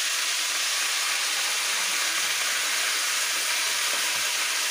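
A paste of chili, tomato and ginger fries in a pan, giving a continuous, even hiss of sizzling oil throughout, close and with no talking.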